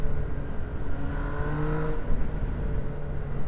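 MV Agusta Brutale 800 (2019) naked motorcycle engine humming steadily at close range, with a brief rise in revs around a quick-shifter downshift; no talking.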